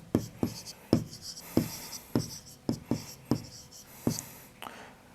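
Chalk writes an answer on a classroom board in a run of about nine sharp taps and short scratching strokes, close and fairly loud, with no voice over them.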